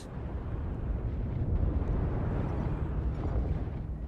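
Artillery strikes in Mechwarrior Online land as a sustained, rumbling barrage of low explosions that rolls on steadily without a clear break.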